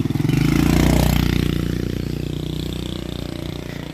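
A motorcycle engine runs close and loud on a rural road, swelling as it passes and then settling into a steady pulsing putter.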